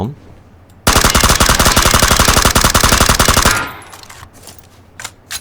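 An M416 rifle fitted with an angled grip, vertical grip, tactical stock and suppressor fires in PUBG: one sustained, rapid automatic burst lasting nearly three seconds, loud and close, followed by faint scattered clicks and handling sounds.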